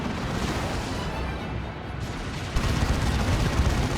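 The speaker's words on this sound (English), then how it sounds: "Adeptus with their grenade launcher from miles away there." Imperial Guard grenade launcher fire in Dawn of War 2, a Space Marines versus Imperial Guard match: dense, rumbling battle noise with booming impacts and a fresh burst partway through.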